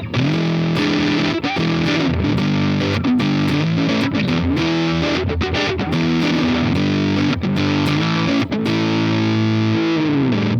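Thick, saturated fuzz guitar through a Big Muff model on a Donner Arena 2000 plays a dense, loud riff with sustained chords and brief stops, a woolly distorted tone filling the whole stretch.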